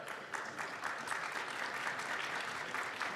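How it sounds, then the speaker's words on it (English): Steady applause from a local crowd fills the arena at a women's table tennis quarterfinal at the 2017 Swedish Open, continuous and moderately distant with no talk over it. "Getting some applause from the locals."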